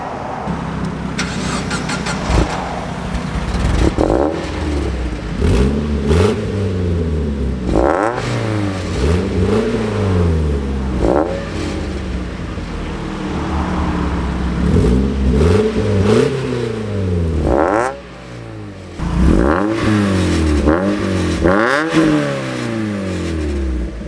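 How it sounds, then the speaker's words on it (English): Old beater car's engine revved while cold, a run of loud close revs rising and falling one after another through a big exhaust pipe, with a brief dip to idle near the end. "You want a cold rev?"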